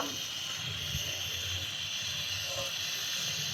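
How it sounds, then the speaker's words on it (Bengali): Coriander-leaf and potato snack frying in hot oil, a steady close hiss and bubbling sizzle that runs unbroken throughout, with faint low knocks beneath. "এবার আমি এটাকে উল্টে পাল্টে ভেজে নেব"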